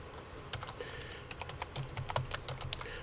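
Typing on a computer keyboard, quiet rapid clicks in uneven bursts of keystrokes, close and alone with no voices.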